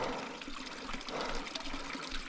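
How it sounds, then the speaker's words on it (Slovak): A small waterfall rushes and splashes continuously, a steady broadband wash of falling water heard close and fairly soft, with no voices over it. "Takže vodopád vravíš."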